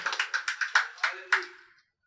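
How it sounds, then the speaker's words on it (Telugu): A church congregation at a Telugu Christian service claps in a quick, regular rhythm of roughly ten claps, close and fairly loud, trailing off into silence. "చప్పట్లు కొట్టి దేవుని భయంపరచండి."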